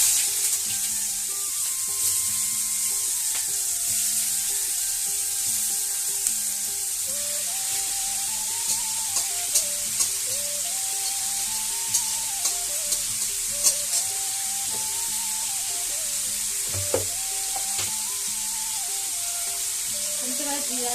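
Cumin seeds and bay leaf sizzle in hot oil in a home kitchen, a steady, bright frying hiss that runs throughout with faint clicks and a soft melodic tune in the background.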